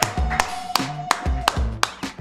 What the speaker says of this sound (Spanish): recibimos con un fuerte aplauso a Martín Rodríguez